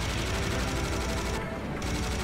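Cannon fire from the video game Serious Sam HD: The Second Encounter: a dense, loud, continuous barrage of booming blasts and crackling explosions that fills the whole stretch without a pause.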